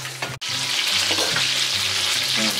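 Tilapia fries in hot oil with a continuous, bright sputtering sizzle, briefly cut by a sharp click near the start, then hissing on steadily at moderate loudness.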